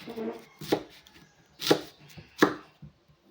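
A guava being chopped with a knife on a board, four distinct hard thuds spaced unevenly, close and fairly loud, with quiet handling sounds between strikes.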